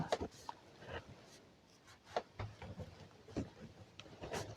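Chalk or marker scratching on a board during a maths lesson, short repeated strokes and taps in a quiet room, with faint background noise and no clear talk.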